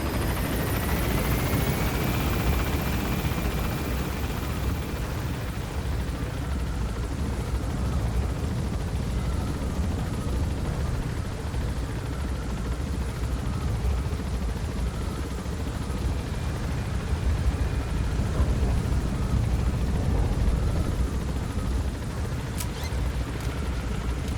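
Helicopter in the video game Metal Gear Solid V, a steady loud rotor thump and turbine roar filling the whole stretch at constant distance, with no talk over it.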